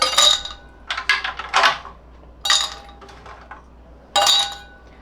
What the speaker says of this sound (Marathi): थोडेसे बर्फाचे क्यूब्स